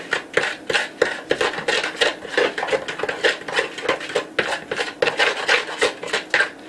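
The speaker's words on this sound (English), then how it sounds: "Alright, so we're going to mix all these ingredients together." Wet cookie ingredients with vanilla extract being mixed in a bowl, a steady run of quick scraping, rasping strokes of utensil against bowl, close and continuous without talk.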